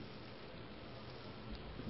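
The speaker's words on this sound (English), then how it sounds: "It's raining now." Steady rain falling outside, a continuous even hiss with no breaks, faint and in the background.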